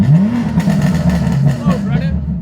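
A 700 hp Enzian Blue BMW F80 M3 with an S55 engine revs and pulls hard while driving, a loud rising and falling growl heard up close beneath a voice.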